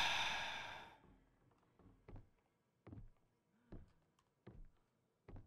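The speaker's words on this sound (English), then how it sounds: "I hear breathing." Breathing in a horror video game: after a brief burst of noise, slow heavy breaths come alone in a quiet space, about six soft puffs at a steady interval of under a second each.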